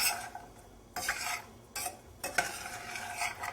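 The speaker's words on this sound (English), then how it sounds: "So I'll stir some, but not too much," Fresh berries being stirred with sugar for a pudding, several scraping spoon strokes against the pot in uneven bursts over a light sizzle, close and clear with no talking.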